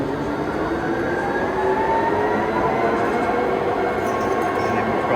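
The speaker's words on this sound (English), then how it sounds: "Start the spindle at 100 RPM this time." A Schiess 64-inch CNC vertical lathe runs its spindle at 100 RPM, a steady dense mechanical roar with faint tonal whine that rises slowly in pitch, continuous throughout.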